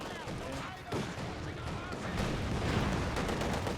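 A landmine goes off amid a World War II strategy game battle, a muffled boom within dense, continuous gunfire and artillery rumble, with a commentator talking over the noise.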